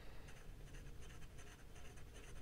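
A Montegrappa Parola Slim Duetto fountain pen nib scratches across paper in short, close, quiet strokes with a dry, papery rasp and brief pauses between words, heard alone.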